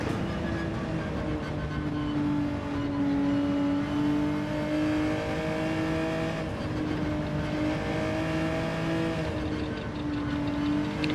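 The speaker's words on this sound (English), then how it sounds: "This Genesis is already starting to slide when you just ease on the brake." A Genesis Group 3 race car in a Le Mans racing game slides under light braking, its engine holding a steady loud whine that shifts in pitch with a faint tire scrub underneath, and no voices.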